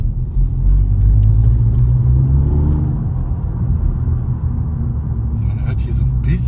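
Ford Fiesta ST Mk8 with Pipercross intake and Milltek exhaust heard from inside the cabin: a steady, loud low engine drone with faint intake hiss, continuous throughout.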